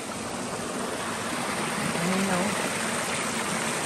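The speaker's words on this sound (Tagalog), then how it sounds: "ito yung falls. Ang ganda." Waterfall on a Kananaskis hiking trail, a steady broad rushing roar of falling water filling the whole clip, with a faint voice briefly audible partway through.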